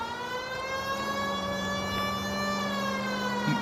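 A steady, loud police siren wail in the video game L.A. Noire holds a continuous rising tone throughout, with no talking over it.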